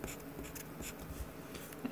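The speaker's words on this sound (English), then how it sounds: "I'm just going to write it down." Pen writing by hand on paper while working out a math multiplication problem, a soft continuous scratching that runs steadily and close up, with no talking over it.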